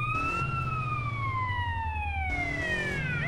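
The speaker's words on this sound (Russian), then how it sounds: "Сирену как выключить?" A police-style siren on a limousine wails loud and continuous, its pitch sliding slowly downward and then rising again toward the end, over a steady low engine rumble.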